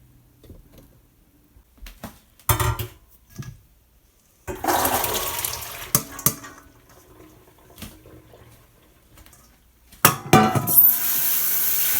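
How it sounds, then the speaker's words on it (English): Soaked soybeans are drained and rinsed, with bursts of running and pouring water separated by quiet gaps and small clinks of a pot or container, heard close by. "Now we're going to drain the water and rinse the soybeans."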